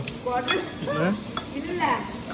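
Tomatoes sizzle and crackle in hot oil at a steady level while a person talks over it.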